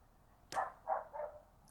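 A dog gives a few short barks close by, three or four quick yips spaced under half a second apart, in a quiet outdoor setting.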